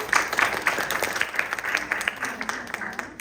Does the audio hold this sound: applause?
yes